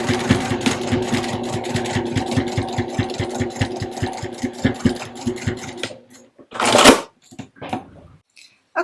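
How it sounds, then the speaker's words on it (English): A sewing machine runs a quarter-inch seam across the opening of a fabric AirPods case holder, its needle clattering in a fast, steady rhythm for about six seconds before stopping, followed by a brief rustle of fabric. "So the next step for me is to stitch across this opening here"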